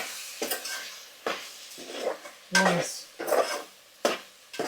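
Turmeric, chili powder and ginger garlic paste stirred in a frying pan, about six distinct scraping strokes of a spoon against metal, close and moderately loud over a soft sizzle, with no voices.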